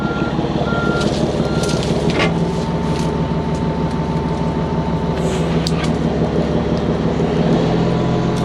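A dump truck backs up on a dirt work site. Its backup alarm beeps in a steady rhythm over a loud, constant diesel rumble and machinery noise.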